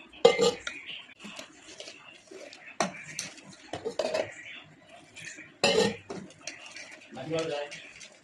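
Dry neem leaf powder and asafoetida being mixed in a bowl, with a spoon scraping and clinking against the dish in irregular bursts, close and moderately loud; a person talks over parts of the mixing.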